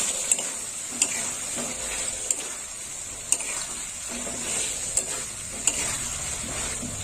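Spices for a potato and papad curry are stirred and sautéed in a pan, with a steady sizzle and frying hiss underneath and regular sharp scrapes and clinks of the spoon against the pan every second or so.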